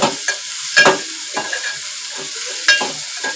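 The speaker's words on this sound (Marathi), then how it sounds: "चांगलं ढवळून घ्यायचं." Val beans with salt are stirred in a pan, the spoon scraping in short irregular strokes over a steady sizzle, close and clear with no talking.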